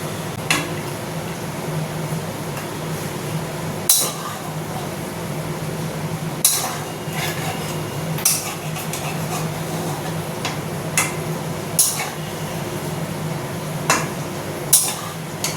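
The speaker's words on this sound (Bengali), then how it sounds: "এবার এগুলো একটু নাড়িয়ে চাড়িয়ে নিতে হবে মশলাটার সাথে একটু মাংসগুলো কষিয়ে নিই" A spoon stirs and sears meat with spices in a pot, making a steady close scraping and rustling broken by sharp metallic clinks every few seconds.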